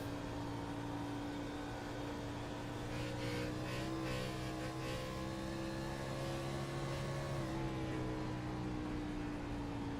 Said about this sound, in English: That's a weird engine noise he's got coming out of that car for Jason Benson.